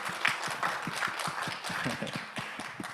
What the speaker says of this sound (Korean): 여러분 박수로 한번 환영해 주세요